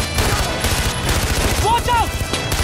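Rapid automatic gunfire in the video game Far Cry 4, a dense fusillade of close, loud shots in quick bursts, with people shouting over it.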